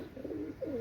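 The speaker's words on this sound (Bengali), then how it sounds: "পাকিস্তানি লাল পায়রি কবুতর" A pair of Pakistani red pigeons gives soft, low cooing, two short throaty coos close together, faint and close by with nothing else around them.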